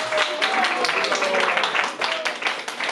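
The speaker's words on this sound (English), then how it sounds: "Please give a round of applause to Maharaj" An audience applauds for Maharaj at a spiritual gathering, with dense, steady clapping alongside voices and cheering across the span.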